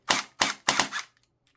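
A battery-powered Cyberpunk 2077 DR-12 Quasar replica bullpup gel blaster fires three sharp, evenly spaced close shots, then a fourth shorter one, each a crisp snapping pop with brief mechanical rattle, followed by quiet.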